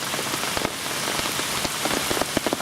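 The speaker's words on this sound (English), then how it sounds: "here comes the rain as expected. Hopefully it won't last very long, but it's absolutely hammering down" Heavy rain pounds down steadily beside the River Swale, a dense, continuous hiss of drops with sharper patters on nearby surfaces and no voices.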